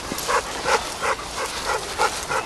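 Repeated dog barks at a steady, quick rhythm, moderately loud and somewhat distant, with no one talking.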